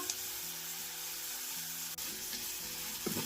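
Steady, close sizzling of vegetables frying in a pan, with a faint occasional stir or clink.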